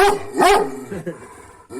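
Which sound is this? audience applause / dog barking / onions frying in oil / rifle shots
dog barking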